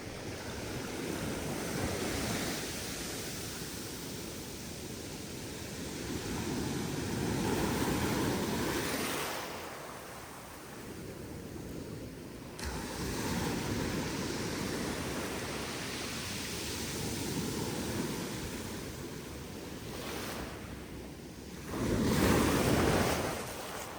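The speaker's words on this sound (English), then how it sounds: "Ooh, I love the sound of those shells rushing back to the water." Ocean surf at Melbourne Beach, waves surging in and dragging loose shells back into the water, a steady loud wash with swelling and receding rushes and no talking.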